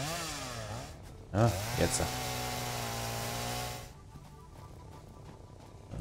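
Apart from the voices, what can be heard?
sawing with a chainsaw in the video game Satisfactory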